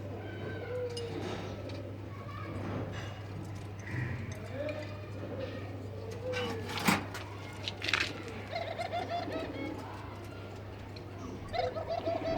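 A pet pigeon coos in soft, repeated throaty calls among other birds, with a cat's meow and a voice mixed in and a steady low electrical hum underneath.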